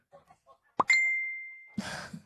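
A cellphone messenger notification chimes once, a sharp bright ding that rings on as a sustained fading tone, after faint indistinct murmurs and followed by a burst of noisy rustle.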